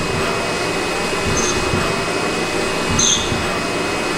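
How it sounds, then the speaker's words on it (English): A CNC lathe takes a single cutting pass on a 3 mm multi-start thread. A steady, broadband machine whir continues throughout, and two faint high tones appear briefly near the start and again near the end. "So here we're cutting one pass. This is essentially a 3mm thread."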